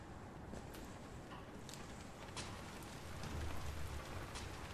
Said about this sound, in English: Oh, it's just the rain.